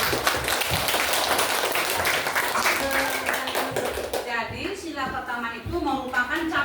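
Students in a classroom clap in a brisk, crowded round of applause during a Pancasila lesson. As the clapping thins, a voice starts speaking over the last claps.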